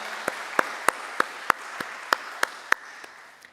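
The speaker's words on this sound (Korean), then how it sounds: "우리 감사와 격려의 박수를 한번 할까요" A church congregation applauds the choir with a string of evenly spaced, crisp unison claps over a soft wash of scattered clapping, fading at the end.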